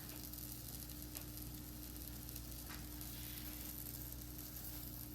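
Banana pancake bites frying in a pan, a steady close hiss of sizzling oil that holds even throughout, with no voices over it.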